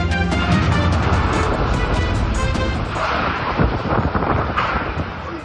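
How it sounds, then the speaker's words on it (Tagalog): Strong wind and rain from super typhoon Julian batter Basco, Batanes, a roaring, gusting rush with buffeting bursts over the microphone and a steady wash of rain beneath, loud and continuous. "Pinadapa na napakalakas na hangin at ulan ng mga bahay at puno sa pagtama ng bagyong Julian sa Basco, Batanes kahapon."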